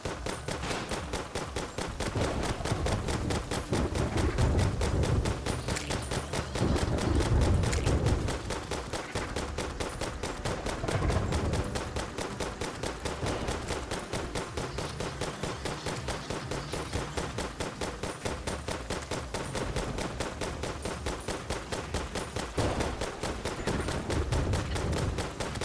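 Rapid gunfire from the game Terraria, a dense, steady stream of quick repeated shots running the whole time, with some louder low thuds and rumbles mixed in.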